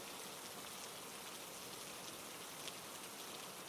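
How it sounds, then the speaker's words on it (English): Gentle rain falls steadily and evenly, a soft continuous hiss of drops with no other sounds over it. "The rain softens, a gentle mist settling over the field"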